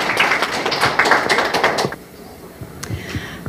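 An audience at a lecture for pastors and organization heads claps to welcome the speaker, dense applause lasting about two seconds before dropping to a few scattered claps.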